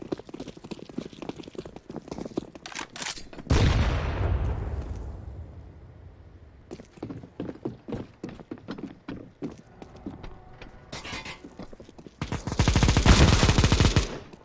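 Gunfire from AK and Negev weapons in a CS:GO match, rapid bursts of shots, a heavy blast that rings out and fades, then a long dense stream of automatic fire, with no talk.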